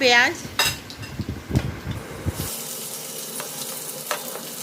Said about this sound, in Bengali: দিয়ে দিচ্ছি কুচনো রসুনটাকে আমি একটুখানি নাড়াচাড়া করে নেব